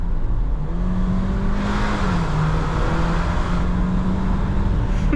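A petrol V6 in a 2024 Mercedes V300 van (231 hp) revs up while driving, its engine note rising steadily and then holding a sustained hum with broadband road and wind noise throughout, close and loud with no talking.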